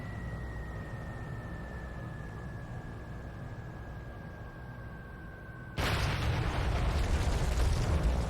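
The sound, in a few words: biggest bomb exploding in War Thunder video game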